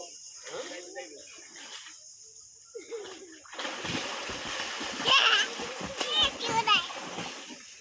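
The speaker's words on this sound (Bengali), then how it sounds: "সবাই গোসল করতেছি সাঁতার কাটবো" People bathing and swimming send up splashes of water, loud and close, that build in the second half. Children's voices and other talk run throughout, with a busy, lively feel.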